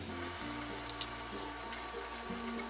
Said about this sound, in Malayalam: ഇതിലേക്ക് ഇനി ബ്ലെൻഡ് ചെയ്ത് വെച്ചിരിക്കുന്ന ടൊമാറ്റോ ഒഴിച്ചു കൊടുക്കാം